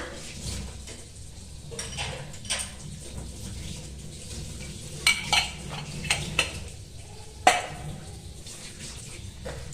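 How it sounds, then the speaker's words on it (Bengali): A wok set on a stove for heating oil while cooking Bengali fig curry (dumurer dalna), with scattered metallic clinks and scrapes of pan and utensils over a low background hiss. "কড়াই চাপিয়েছি, দেব তেল"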